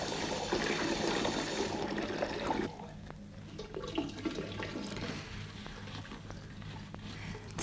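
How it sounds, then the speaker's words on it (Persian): A bathroom hot water tap runs in a loud, steady gush that drops to a lighter flow partway through, continuing without any voices over it. "به مامان بگو شیر آب گرم ببنده، آب سرده"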